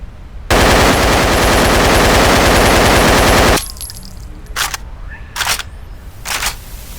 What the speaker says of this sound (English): The guns themselves, though, feel really good. They sound loud, they sound punchy